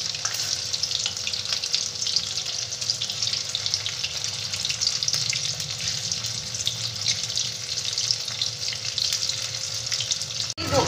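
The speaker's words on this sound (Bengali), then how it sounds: "এই ধোকাগুলো আমি আস্তে আস্তে ভেজে নেব" Pieces of egg dhoka sizzle in hot oil for a Bengali egg dhoka dalna, a dense, steady crackle that holds loud and close throughout with no voices.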